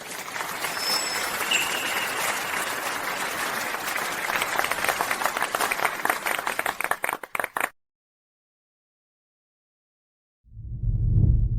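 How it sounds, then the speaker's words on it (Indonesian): Applause welcomes the bride onto the stage at a wedding, a dense, steady clapping crowd that continues for several seconds, cuts off to silence, then returns as a low rumble near the end. "mari kita berikan tepuk tangan meriah untuk menyambut Dewi tercantik hari"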